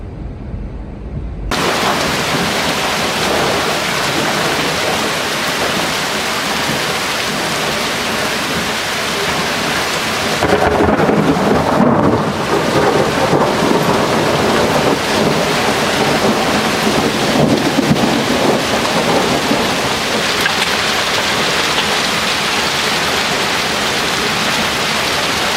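A heavy hailstorm with rain and thunder: a steady, loud wash of pounding hail and rain fills the whole span, with a deep thunder rumble swelling midway, no voices.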